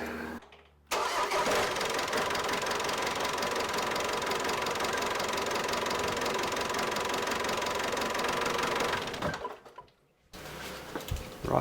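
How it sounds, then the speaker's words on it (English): A Ford Transit van's engine cranks and catches after a power steering fluid flush, then runs at a loud, steady idle for about eight seconds before a brief drop and a restart of rough engine noise. "I'm just going to go and start the engine now, allow the power steering fluid to circulate"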